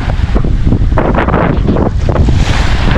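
Strong northeast monsoon wind roars at sea, buffeting the microphone continuously while waves crash and surge close by, loud and unbroken throughout.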